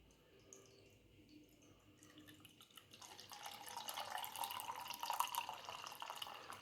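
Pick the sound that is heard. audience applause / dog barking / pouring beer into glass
pouring beer into glass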